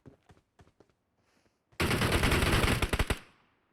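PUBG Mobile gunfire: scattered quiet single shots at first, then a loud, rapid automatic burst of about a second and a half that ends in a few trailing cracks.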